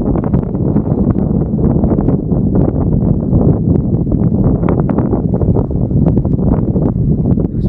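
Strong wind buffets the microphone in a constant low roar, loud and unbroken, with faint rustling underneath, at Crescent Head, New South Wales, Australia.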